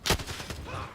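A quick burst of gunfire from a first-person shooter video game, with one sharp close crack followed by a few quieter rapid shots.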